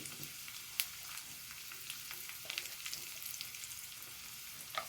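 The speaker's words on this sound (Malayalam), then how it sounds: "1 നുള്ള് മുളക് പൊടി കൂടെ ഒന്ന് മൂപ്പിച്ചിട്ട്" Dried red chillies and a pinch of chilli powder frying in hot oil with mustard seeds, giving a steady soft sizzle and scattered pops and crackles close by.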